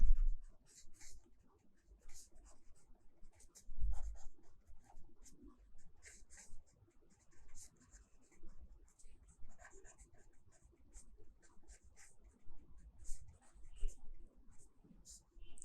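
A pen writing a determinant formula for a Class 12 maths exercise: soft, close scratching strokes in irregular bursts with short pauses between, with some quiet talk.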